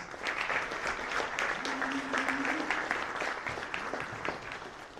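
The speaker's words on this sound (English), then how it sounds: "if we could give him just one more round of applause" An audience at a sport summit applauds its keynote speaker, a dense, even round of clapping that holds steady from start to finish with a faint murmur of voices beneath.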